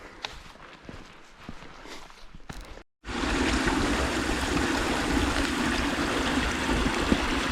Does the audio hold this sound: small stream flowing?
yes